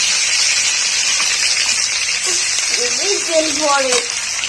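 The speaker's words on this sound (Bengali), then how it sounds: "পেঁয়াজটা লাল লাল করে ভাজা হয়ে গেছে আর আদা রসুনের পেস্টটা আমি দিয়ে দেবো" Ginger garlic paste hits reddish-browned onions frying in a pan for a home-made egg tadka, setting off a loud, continuous sizzle that runs throughout, with a voice briefly heard under it near the end.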